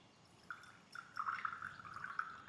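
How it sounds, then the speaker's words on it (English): Cold brew coffee is poured from a container into a glass, a soft, close trickle that starts faintly and grows into a steadier gurgling stream, with no talking. "So how much cold brew we have to pour?"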